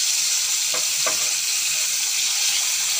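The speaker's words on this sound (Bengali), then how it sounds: "মাছটা ভাজা হচ্ছে আমার," Even, close sizzling of rohu fish frying in oil, with a couple of quick utensil taps early on and no talking.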